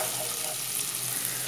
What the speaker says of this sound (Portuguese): acabei de tirar o bacon daqui e já coloquei o alho na própria gordura do bacon